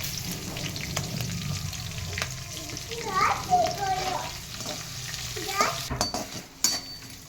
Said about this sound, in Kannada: ಒಂದು ರೌಂಡ್ ಚೆನ್ನಾಗಿ ಹುರಿದ ಮೇಲೆ ಇಂಗನ್ನು ಹಾಕ್ತೀನಿ.